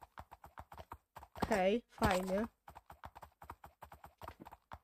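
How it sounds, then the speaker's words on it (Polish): A galloping horse in the Minecraft SWEM mod gives off fast, steady clip-clop hoofbeats that run through the whole stretch, while someone briefly talks in the middle. "Teraz szybszy galop. I cwał, i cwał."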